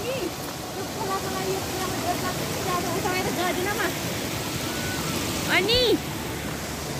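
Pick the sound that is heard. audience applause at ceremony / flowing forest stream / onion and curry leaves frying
flowing forest stream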